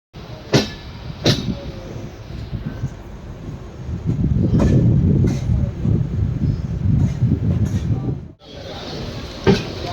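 The Yesvantpur Express rushes past at high speed with a loud, sustained roar of wheels and wind, punctuated by sharp clanks, before the noise cuts off abruptly near the end.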